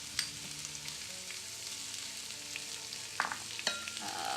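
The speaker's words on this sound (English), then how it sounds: "we're gonna saute 1 medium onion, 5 cloves of garlic" One medium onion and five cloves of minced garlic sauteing in bacon fat in a pan, a soft steady sizzle with a few sharp scraping stirs toward the end.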